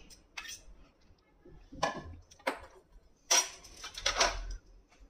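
Chicken being mixed by hand with chopped onion in a bowl, giving a few soft wet squelches and light clinks against the bowl in short separate bursts, close and fairly quiet.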